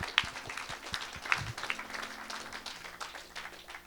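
A church congregation breaks into applause and clapping for Jesus Christ during a sermon, a steady crowd wash with scattered louder claps, with faint voices mixed in.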